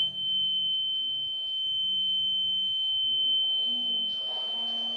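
Buzzer of a GSM module alarm system sounding a steady, continuous high electronic tone for several seconds, loud and close, with faint background noise underneath and no talking.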